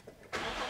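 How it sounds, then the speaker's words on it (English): A Nissan/Infiniti car engine cranks and catches after a short quiet lead-in, settling into a loud, steady running roar close by. "we're going to start the engine"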